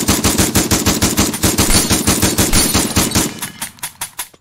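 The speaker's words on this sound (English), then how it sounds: "This is my second best gun on the game, the shotgun, and it is fucking awesome." Rapid, evenly spaced shots ring out for about three seconds from the shotgun in the VR game Pavlov, then a few slower, more spaced blasts trail off, loud and close.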